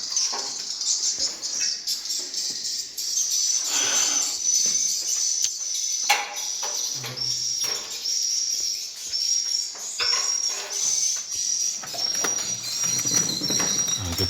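Swiftlets fill a swiftlet house with a dense chorus of high, rapid chirps and twitters, repeated bursts layered over one another at moderate distance, with a few faint low thuds underneath.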